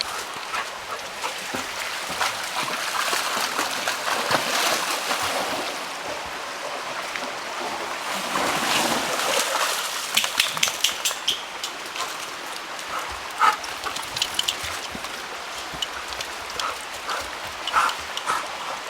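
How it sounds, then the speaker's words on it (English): A black lab swimming in a state park stream or pond, with continuous splashing and water churning, close and fairly loud, broken by irregular sharper splashes and paddling slaps, no talk. "Chief, go swim."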